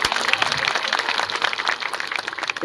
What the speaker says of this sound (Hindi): जोरदार तालियां पांडा के लिए एक बारी